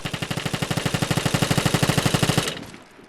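Rapid automatic gunfire from a video game empties a magazine in one unbroken burst of about thirty evenly spaced shots, loud and close, then cuts off, leaving a short fading tail.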